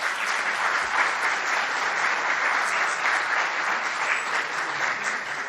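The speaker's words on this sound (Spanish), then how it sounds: "Pido un aplauso para ella," Steady, full applause from a university audience welcoming a judge at a national penal-law conference, a dense wash of many hands clapping without a break for several seconds, with no talk over it.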